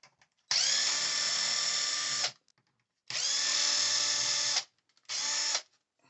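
Close and loud, a power tool whirs in three separate bursts: two long runs of about two seconds and one short one. It is backing out the 2mm shock bolts on a Traxxas RC car, with brief silence between the bursts.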